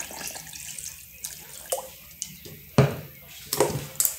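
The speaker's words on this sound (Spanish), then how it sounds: "entonces vamos a ponerle el agua" Water is poured into a blender holding watermelon and sugar for a fresh drink, splashing in uneven bursts and drips close to the microphone.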